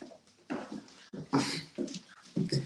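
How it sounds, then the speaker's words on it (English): A young puppy whimpers and yelps in short, uneven bursts, close and fairly loud, with small pauses between the cries. "He's a little puppy, and I just got him"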